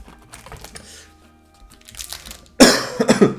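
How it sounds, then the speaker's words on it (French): A person who is a little ill coughs, quiet at first, then a loud burst of a few harsh coughs near the end, close to the mic. "Je tousse pas mal."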